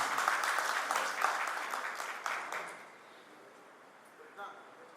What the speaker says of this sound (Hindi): सभी लोग तालियों से कृपया कर स्वागत करें।